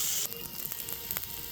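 Onion and bacon sizzle in a pan for roast chicken stuffing, a steady close crackling hiss with small pops and stirring over a brief moment.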